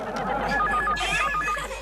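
A telephone rings in a household comedy scene, its bell sounding in short repeating bursts. Faint voices sit underneath.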